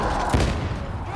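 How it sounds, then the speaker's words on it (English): A grenade launcher firing in Warhammer 40K Darktide during chaotic co-op combat, with a muffled, booming blast and thump in a dense wash of gunfire and noise. "this guy's going nuts with the grenade launcher"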